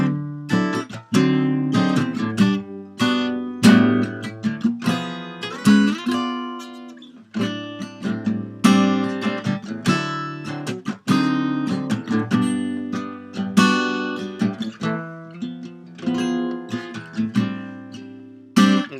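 Guitar plays the bridge of a song lesson piece, strummed and picked chords ringing in a steady rhythm with brief pauses between phrases, close and clear with no talking.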